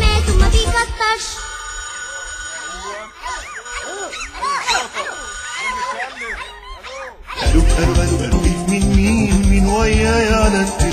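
A telephone ringtone sounds within a children's hymn, its chirping warbling tones repeating over the music before fuller accompaniment returns.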